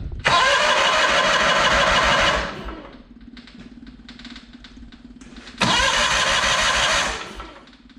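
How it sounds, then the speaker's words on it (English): A John Deere 318 lawn tractor engine, choked, cranks and fires with a loud roaring burst, settles briefly into a low idle, then revs up loudly again before easing off. "Give it a little choke, throttle down. See how she fires up."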